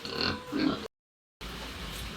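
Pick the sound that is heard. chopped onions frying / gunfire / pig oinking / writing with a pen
pig oinking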